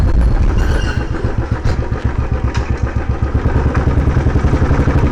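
A Royal Enfield Bullet motorcycle engine, slipping between neutral and gears, thumps loud and close in a steady single-cylinder beat with clattery mechanical noise and slight shifts in pace.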